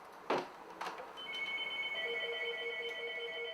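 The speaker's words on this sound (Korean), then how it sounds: "청소기를 꽂자마자 전화벨이 울리네요" Telephone ringing in a home, preceded by a couple of sharp knocks, then a sustained electronic ring tone holding steady at moderate volume, no talking.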